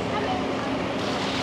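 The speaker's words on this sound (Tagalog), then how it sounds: "Oh, lakas ng alon." Strong waves near a boat off Toronto Centre Island: a loud, constant wash of water and wind rumble filling the brief moment, with a voice speaking over it.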